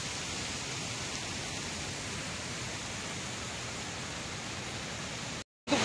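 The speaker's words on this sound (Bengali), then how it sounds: "ওই যে জলটা দেখেছো কেমন জোরে পড়ছে" Water pours forcefully down a waterfall, a constant broadband roar close by that stays even and unbroken, then cuts out briefly near the end.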